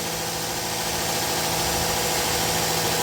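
A 2007 Hyundai Grandeur TG with a 2.7 gasoline engine and automatic transmission idles steadily close by, a continuous even hum with a low drone and light mechanical vibration and no talking.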